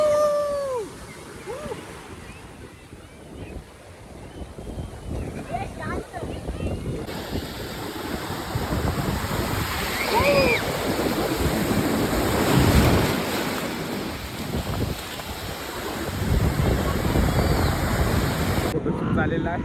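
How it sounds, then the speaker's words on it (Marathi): Sea waves crash and wash on a Konkan beach in Maharashtra, rolling surges under gusty wind buffeting the microphone, with several people talking over the surf. "लाटा इथं बघू शकता कवरे मोठे आले"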